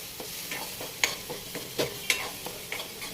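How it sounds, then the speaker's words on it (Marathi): Masala paste with goda masala, salt and onion-garlic masala is stirred in a pan over low heat. A spoon scrapes in slow, uneven strokes over a faint, quiet sizzle. "आपण पेस्टला स्टर करत राहायचं आहे"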